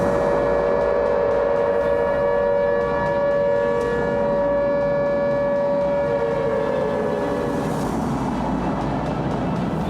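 A wailing air-raid siren sounds loud and steady for the whole stretch, with a droning tone that rises and falls slightly over a noisy, rumbling background.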